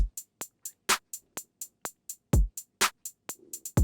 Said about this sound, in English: So we have a pretty basic hi-hat pattern there